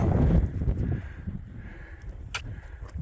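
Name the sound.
wind on a mountain near the summit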